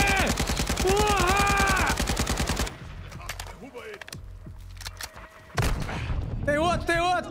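Rapid automatic AK-47 rifle fire in a video game, a dense loud burst for about two seconds followed by scattered shots and clanks, with excited talk over it.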